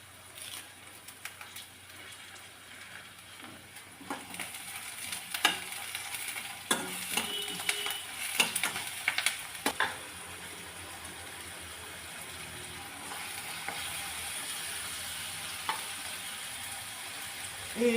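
Curry leaves fry and are stirred in a pan over a low flame, giving a quiet, steady sizzle broken by repeated scraping and clattering stirs, with no talk.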